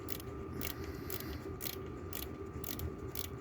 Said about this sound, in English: So I got this small wrench here, 13mm